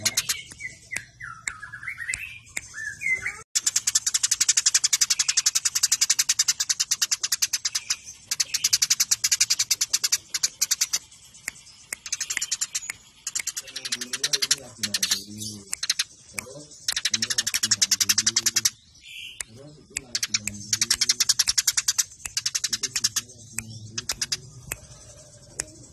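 House sparrow calls from a birdsong training recording: dense, rapid chirping and tweeting fills nearly the whole stretch in loud bursts with brief gaps, and a low voice-like murmur comes through in places.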